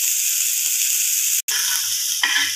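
Onion frying lightly in a pan for a chicken sandwich filling, a close steady sizzle broken by one very short gap, with faint stirring touches underneath.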